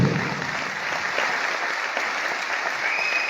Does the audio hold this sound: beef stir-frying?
no